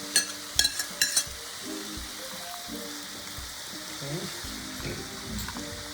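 Tofu sautéing in a hot pan gives a steady sizzle and frying hiss with occasional stirring scrapes, a few sharp clinks at the start and a brief spoken word over it.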